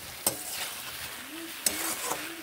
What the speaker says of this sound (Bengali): এবার আমি বেশ ভালোভাবে এটিকে ভাজবো বা কষিয়ে নেব। এইভাবে আর একটু ভালোভাবে এইভাবে নেড়ে নিচ্ছি।